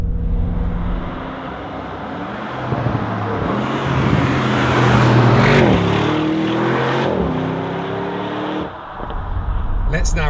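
A 2025 Audi RS Q8 performance SUV cruises in its relaxed settings, a smooth, steady engine note rising and falling gently with shifts, loud and close, with road and tyre roar underneath.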